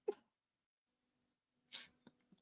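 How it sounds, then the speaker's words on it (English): A single sneeze bursts out at the start, followed by a long quiet gap, then a second sneeze-like burst with a breathy, hissy tail and small sniffs; close to the microphone, with no talking. "I had to sneeze."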